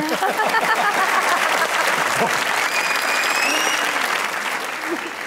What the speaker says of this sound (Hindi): इसमें तालियां बजाओ